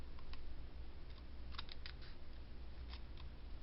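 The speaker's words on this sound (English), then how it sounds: "Then I'm going to cut it like this. Okay, and you're going to cut this piece off." Card paper being cut while making a diamond fold fun fold card: a few quiet, crisp snips and clicks in short clusters over a low steady hum.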